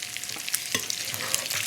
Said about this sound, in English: I'm going to flip this salmon